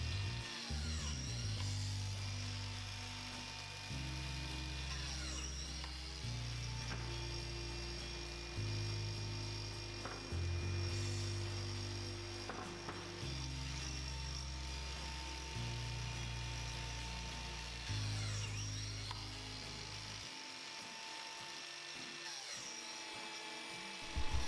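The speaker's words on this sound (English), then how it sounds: "I cut the biscuit slots in the rails" A biscuit joiner cutting slots in wooden table rails whines steadily in repeated bursts of a few seconds each, starting and stopping in a regular rhythm, loud and close with no talking.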